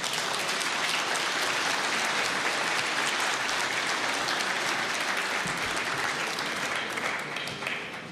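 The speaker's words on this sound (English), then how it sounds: "Applause, please welcome Secretary General Jens Stoltenberg" A large audience at the Munich security gathering applauds to welcome the NATO Secretary General, a broad continuous wash of clapping that holds steady before easing slightly at the end.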